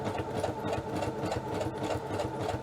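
A sewing machine stitches a quick zigzag through card stock, giving a rapid, steady mechanical chatter with a regular pulsing rhythm, close and continuous for the whole stretch.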